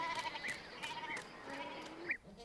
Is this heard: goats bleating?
yes